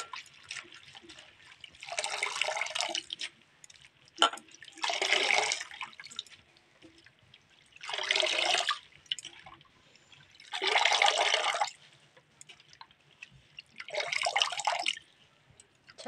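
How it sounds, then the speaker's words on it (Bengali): Kharkol leafy greens are washed by hand in water. Five separate bursts of splashing and sloshing, each about a second long, come at a steady pace with quieter gaps of dripping and small movements between them. "শাক জিনিস ভালো করে জলে ধুয়ে নিতে হয়, শাকটা টাইম লাগে ধুতে একটু।"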